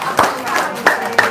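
Four sharp hand claps ring out at an uneven, loose rhythm, close and fairly loud over a quiet room background.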